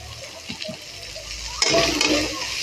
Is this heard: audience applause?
no